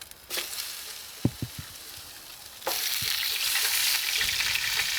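Spanish mackerel laid into hot oil in a pan over smoky heat, a few light taps and then a broad, steady sizzle that swells and holds.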